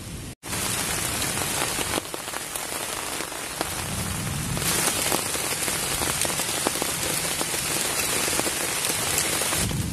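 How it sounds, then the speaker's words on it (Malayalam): Steady, dense rain falls at a bushcraft campsite, a constant loud hiss of drops striking surfaces with no speech. "ഇതാ തൊട്ടടുത്ത് തന്നെ എത്തിയിട്ടുണ്ട് മഴ"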